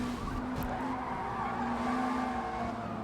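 Race car tires squealing and skidding under hard late braking in a racing video game, a continuous loud screech over steady engine roar with no pauses.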